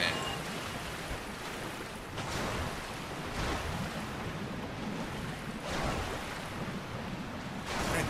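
A waterfall in the Dark Souls video game, a steady broad rushing roar of falling water that fills the whole stretch at moderate loudness, with slight swells.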